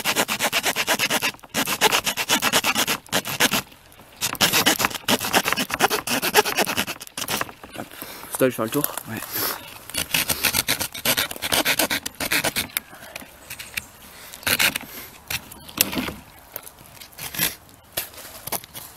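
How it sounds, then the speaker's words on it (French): A small folding Victorinox saw rasps back and forth through a tree branch in quick, rhythmic strokes close up, pausing now and then, with brief speech nearby. "Vous payez cette branche là. Avec la petite scie."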